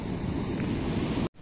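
Stormy sea surf rolls onto a shore in Spain, a steady, loud wash of breaking waves mixed with wind noise on the microphone, cutting off abruptly near the end.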